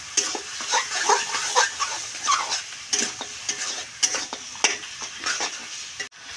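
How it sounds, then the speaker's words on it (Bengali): Pumpkin fries in a pan and is stirred, giving steady sizzling with repeated scraping, clinking spoon strokes close to the mic and no voices. "এখন ভালো করে কুমড়ো ভেজে নেব।"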